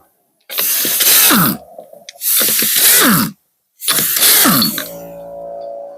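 A torque wrench on a Chevy Silverado's lug nuts gives three strong, close ratcheting bursts with short pauses between them, then a softer tonal tail.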